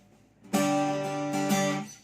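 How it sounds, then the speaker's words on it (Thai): Two close, sustained strums on a Sqoe WD 41JF acoustic-electric guitar with the amp off, the chord ringing out bright and full before fading. "อ่าเนี่ยอันนี้เป็นเสียงกีตาร์เสียงเปล่าเลยนะครับผม"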